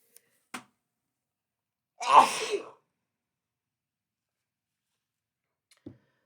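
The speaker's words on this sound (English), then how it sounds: "Sorry, I'm gonna sneeze." A single sharp sneeze bursts out nearby, with faint breaths or small noises before and after in otherwise quiet surroundings.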